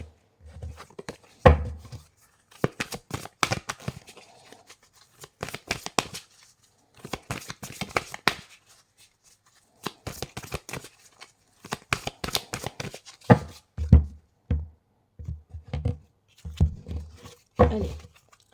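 Tarot cards being shuffled by hand, a series of crisp riffling and slapping bursts in irregular clusters with short pauses between, close and clear, with no talking.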